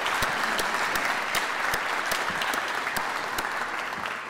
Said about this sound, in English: I think they deserve a really good round of applause for the performance.